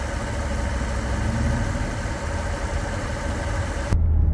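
A 2011 Mercedes-Benz SL 550 idles with a steady, close engine rumble and broadband hum that cuts off abruptly near the end.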